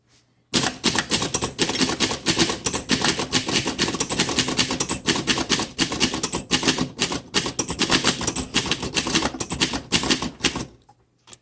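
Fast, steady clacking of keys on a 1932 Underwood Portable four-bank typewriter with shift lock, close and crisp, typed continuously without pause before stopping abruptly.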